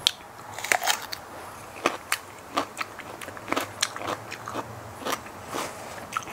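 Close-up bites and crunches into a salmon seaweed salad with chilli, several days old and no longer very crisp, about a dozen crisp snaps spaced at an uneven rhythm over a quiet background.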